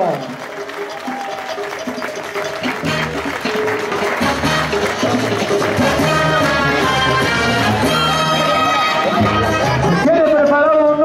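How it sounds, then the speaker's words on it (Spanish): Audience applause for children dancing at a town event in Tepehuaje de Morelos, Jalisco: sustained clapping and crowd noise mixed with music, growing slightly louder toward the end. "El aplauso valeroso."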